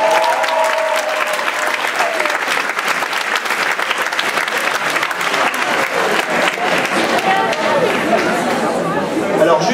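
A conference audience applauds students from Singapore at an opening ceremony, with loud, sustained clapping filling the room alongside crowd chatter.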